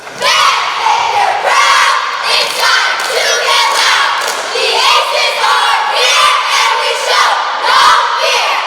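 A group of girls on a school spirit squad for a basketball team shouts a cheer in unison, loud, close, rhythmic chanted bursts with sharp stomps or claps marking the beat.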